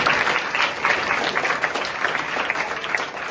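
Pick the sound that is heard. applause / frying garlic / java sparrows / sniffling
applause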